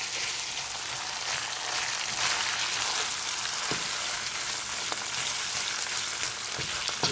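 Cold wild rice for Thai pepper fried rice with crabmeat fries in a hot pan, a dense steady crackle and hiss with occasional stirring scrapes, close and without talk.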